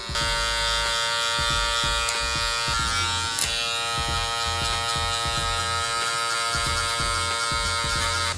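Electric hair clippers with a 1.5 guard cut a low taper at a barbershop, a loud steady motor buzz with a lever adjustment partway through, rhythmic pulses as the blade passes through hair, and no talking.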